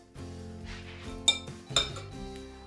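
Chocolate chip muffin batter being mixed in a bowl, a few close clinks and taps of a utensil against the bowl over quiet tonal background sounds.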